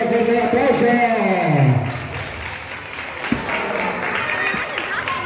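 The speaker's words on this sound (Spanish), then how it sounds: "fuerte un aplauso" A crowd at a Mexican lucha libre wrestling arena applauds in a dense, steady wash of clapping, with an amplified voice speaking over it at the start.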